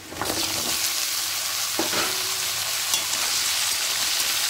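Onions and mixed vegetables sizzle and crackle steadily in hot oil while being stirred in a pan, with scraping stir strokes audible over a continuous close fry and no talking.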